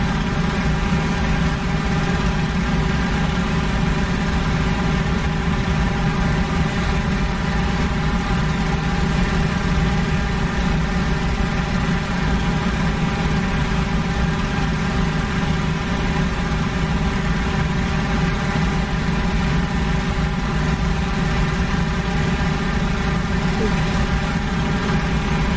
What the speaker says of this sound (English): Again, not forcing the engine hot, just cruising along.